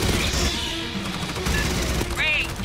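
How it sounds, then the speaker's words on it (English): Rapid bursts of gunfire in the video game Aliens: Fireteam Elite crackle loudly and continuously, with sharp blasts and mechanical clatter filling the whole clip. "Must have heard the gunfire."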